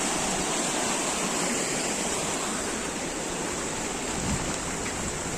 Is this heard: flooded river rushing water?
yes